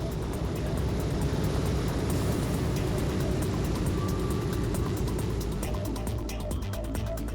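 A B-25 Mitchell bomber fills the scene with a steady, loud engine roar that holds without a break for the whole stretch.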